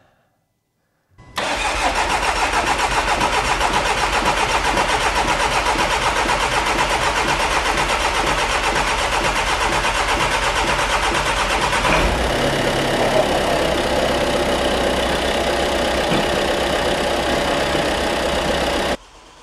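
A VW Transporter engine, misfuelled with petrol, cranks and catches after a moment of silence, then runs loudly and roughly with an uneven, lumpy idle. The steady close engine noise continues until it cuts off at the end.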